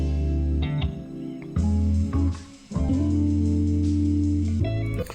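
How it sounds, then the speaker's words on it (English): A chopped ride cymbal sample plays in a loose, slightly off-beat loop over a hip-hop production, its sustained shimmer cutting in and out with abrupt stops and restarts, loud and close with no voices. "I took this ride sample and chopped it up."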